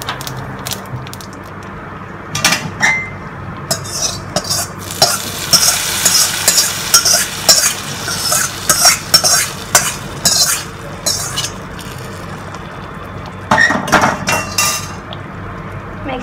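A spoon stirs sambhar rice with a red chili mixed into a pan, giving close, loud scraping and clinking of metal on metal in uneven bursts over a soft sizzle, without speech.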